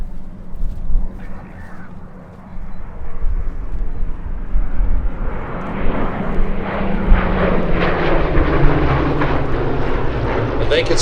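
A Hawker Hurricane's piston engine drones at Sywell airshow in 2024, swelling from a distant hum to a loud, close roar as it passes, with a voice talking over it.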